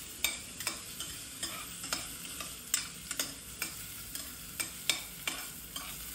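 Chopped onion frying in a pan over a full gas flame, with a steady sizzle broken by rhythmic spatula scrapes and clacks roughly every half second, close and moderately loud.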